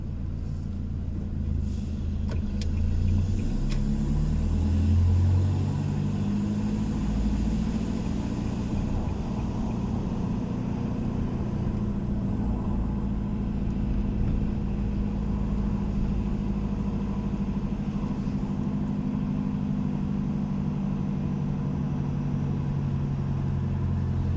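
Steady engine rumble of a car driving downhill on the Chong Tako mountain pass, continuous and fairly loud with a low drone, no talk.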